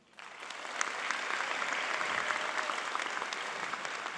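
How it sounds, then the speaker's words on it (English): Audience applause at a high school early college graduation commencement ceremony, a steady, dense wash of many hands clapping that swells within the first half second and holds evenly to the end, with no voices over it. "please help me give a round of applause to our assistant principal, Ms. Ana Masti."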